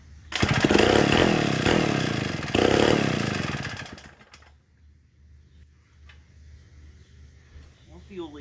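A McCulloch Model 99 chainsaw engine runs loud and close with a harsh buzzing roar for about four seconds, then cuts off, leaving faint low idle rumble and small handling noises.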